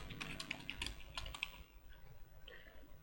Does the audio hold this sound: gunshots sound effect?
no